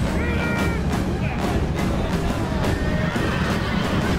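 Horses neigh and whinny amid a dense, loud cavalry battle in Rome Total War, with repeated cries rising over constant clattering combat noise.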